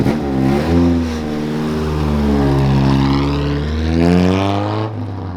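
A Toyota AE86 engine runs loud and close at around 1,200 rpm, its buzzy drone wavering slightly up and down in pitch without any clear revs, with no talk over it.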